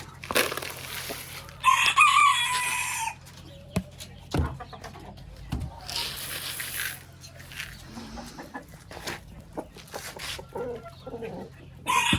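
Brahma chickens on a farm, with a loud rooster crow near the start, then scattered clucks and other bird calls at varying distances over a low background hum.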